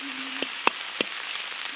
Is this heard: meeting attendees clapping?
no